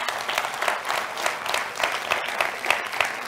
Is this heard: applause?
yes